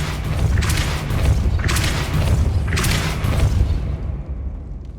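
Depulso force spell cast in the Hogwarts Legacy video game: three loud, booming bursts in a steady rhythm, each a deep thudding blast with a hissing wash on top, fading into a quieter rumbling tail.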